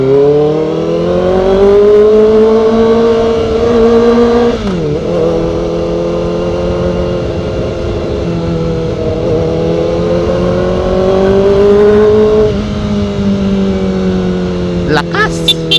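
A Kawasaki ZX4RR motorcycle engine revs steadily off-road, a loud, close, high-pitched whine that rises and dips over several seconds, with a brief gear change and a rider speaking over it.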